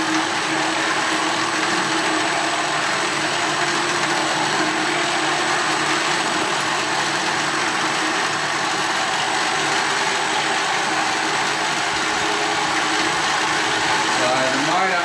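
Electric motor running a CVT opposing torque dynamic clutch, a continuous broadband whir with a steady hum, loud and close throughout.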